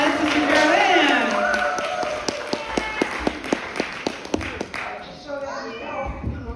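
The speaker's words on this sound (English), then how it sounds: "So if we can all give her a big round of applause, Sister Carolyn." Small audience at a school gathering claps after a nun's magic show, a short run of distinct, evenly spaced claps following talk and fading as another voice begins.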